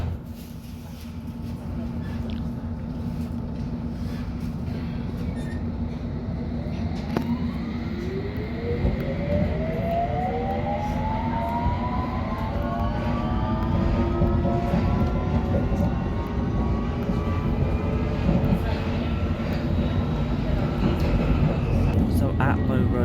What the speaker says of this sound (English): This is a Hammersmith and City line train to Barking